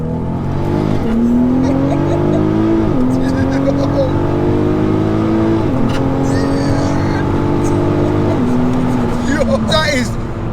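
Tuned VW Golf R running a roughly 700 bhp map accelerates hard, its loud engine note climbing steadily and dropping briefly at each gear change across several shifts, with tire noise near the end.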